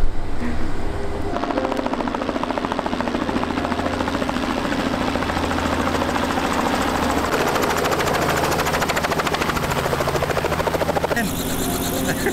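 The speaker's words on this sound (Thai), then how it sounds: "ขึ้นเฮลิคอปเตอร์ครับ" A helicopter's rotor thumps in a fast, steady beat close by, loud and constant throughout, with faint voices underneath, in Japan.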